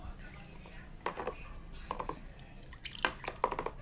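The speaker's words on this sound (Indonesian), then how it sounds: "Kita aduk lagi." A spoon stirs iced tea with jelly in a pot, giving faint, scattered clinks against the metal and soft liquid swishes at irregular intervals over a low background hum.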